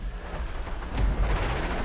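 Steady hissing rain in a racing video game with a low rumble underneath, continuous and fairly loud, with no voices.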